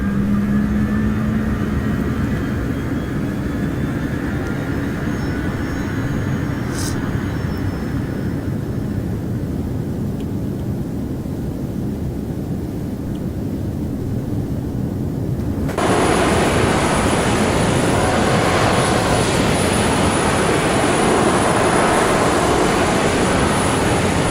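Jet aircraft engine during take-off in the video game Arma 3, a loud sustained roar that starts with a low whine, then abruptly swells brighter and harsher with a high hiss partway through, with no talking.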